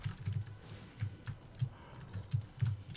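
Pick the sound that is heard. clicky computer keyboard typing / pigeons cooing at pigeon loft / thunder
clicky computer keyboard typing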